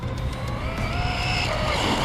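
A car engine held at full throttle, a steady loud droning roar with rising harmonic whine and no breaks over the short stretch.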